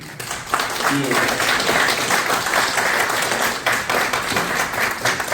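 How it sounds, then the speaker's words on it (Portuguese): An audience at a hepatitis prevention project event applauds a woman named Ligéia with a sustained round of clapping, fairly loud and continuous, while a voice carries on in the background. "eu gostaria muito aí de pedir uma salva de palmas aí, um agradecimento à minha madrinha Ligéia"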